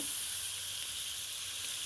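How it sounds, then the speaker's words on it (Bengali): Chicken meat sizzles loudly and steadily as it is stir-fried in a pan, a dense, close, unbroken hiss with no voices. "একটু কষাই নিই মাংসটা"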